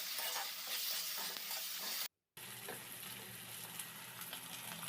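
Ginger, green chili and garlic paste frying with coriander and cumin powder in a pan, a dense, steady sizzle close up that cuts out briefly, then returns just as strong.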